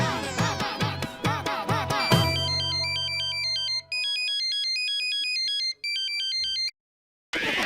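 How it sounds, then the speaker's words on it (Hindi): Phone ringtone ringing loudly: a rapid repeating electronic melody after a brief musical intro, cutting off twice with short gaps before the call is dropped, no talk over it. "रिंग बज रहा है।"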